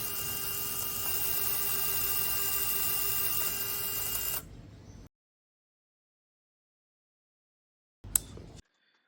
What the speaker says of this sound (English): Left motor, changing the direction.